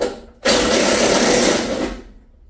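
A power tool runs in one loud, steady burst of about a second and a half while removing rust-seized core support bolts on a square-body Chevy C-10 pickup, then winds down.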